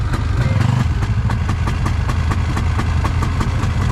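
Off-road vehicles, a Honda Pilot FL400r and a Polaris Ace 900, idle and rev up before a drag race, engines loud, close and throbbing continuously.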